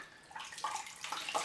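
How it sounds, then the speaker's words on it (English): A shaving cloth is rinsed in running water at a sink, with soft, faint splashes and trickles coming in a few short bursts close by. "I'm just rinsing out the cloth"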